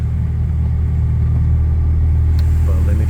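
A 2017 Lexus IS 200t engine runs with a steady, low, quiet hum and smooth road rumble while driving, unbroken and close, with no talk.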